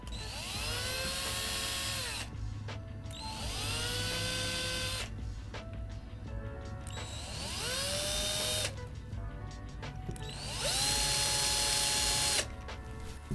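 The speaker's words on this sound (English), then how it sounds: "I'm gonna drill just enough to get a centering point" A power drill bores a shallow centering hole into a carbon fiber bass neck held against the body, in several short whining bursts that rise in pitch as the motor spins up, separated by brief pauses, close and clear.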